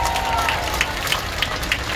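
Crowd applause at a large outdoor Christian rally in South Korea in 2024: a dense, steady wash of many hands clapping with scattered sharper claps and crowd noise throughout.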